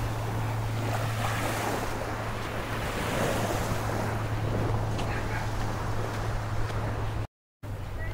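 Sea waves washing the shore at Balayan, Batangas, a steady rushing surf mixed with heavy wind buffeting the microphone, continuous and fairly loud, with a brief dropout near the end.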